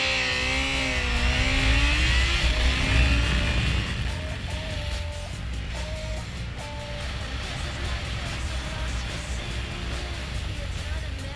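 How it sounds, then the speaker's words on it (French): A Jaguar XJ6 accelerating hard from a standstill in a 0 to 100 test, the engine note climbing loudly through the gears with audible upshifts, then settling into a steady cruising drone of road and engine noise. "qu'est-ce que vous en dites si on se teste un petit 0 à 100 pour voir?"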